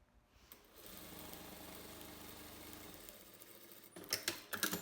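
A sewing machine runs a steady stitching burst along a lined overcoat seam, with the motor hum holding evenly for about three seconds before slowing into a few short, uneven clattering bursts near the end.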